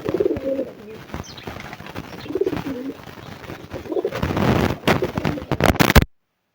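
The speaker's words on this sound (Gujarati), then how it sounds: "કબૂતર" Pet pigeons coo in a low, rolling rhythm in several repeated bouts, close by, before louder bursts of rustling and clattering noise toward the end.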